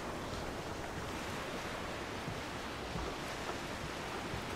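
Water and waves in the ARK: Survival video game, a steady, dense wash of surf-like noise that holds evenly throughout with no talking.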